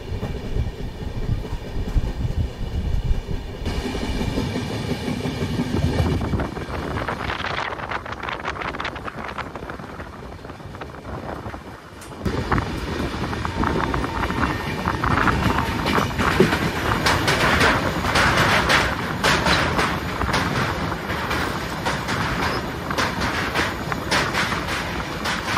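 The 12337 Shantiniketan Express rumbles loudly and steadily along the rails between Howrah and Bolpur, near Shaktigarh and Burdwan. A continuous roar of wheels and carriages runs throughout, mixed with heavy wind buffeting the microphone.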